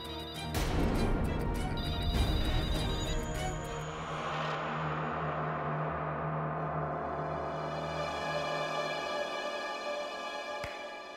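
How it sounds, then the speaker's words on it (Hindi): A telephone rings once briefly amid a loud, crashing, rumbling din in a spooky drama scene, and the noise then fades into a long sustained drone. "फोन मत उठाना, कोई फोन मत उठाना।"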